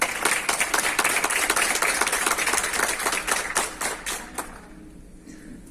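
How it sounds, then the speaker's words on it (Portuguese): An audience at a nursing forum claps together in a dense burst of applause that thins out and fades to near silence near the end. "uma salva de palmas a cada um de vocês que aqui estão"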